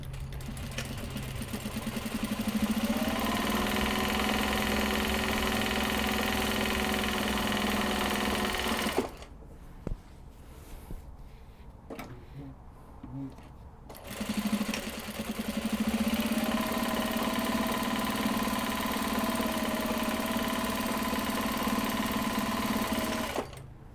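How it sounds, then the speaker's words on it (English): A sewing machine top-stitches fabric cake cozies in a long steady whir that runs unbroken for several seconds. It stops for a short quiet break with a few small clicks, then starts up again and keeps running. "We'll get these top stitched."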